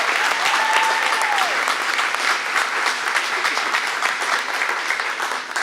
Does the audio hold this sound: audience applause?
yes